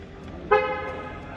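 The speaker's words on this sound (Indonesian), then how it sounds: "Untuk bunyi klakson," A Mercedes-Benz CLA 200 AMG (C118) sounds its horn once, a short bright honk starting sharply and sustaining about half a second before trailing off, heard close up over quiet ambient hum.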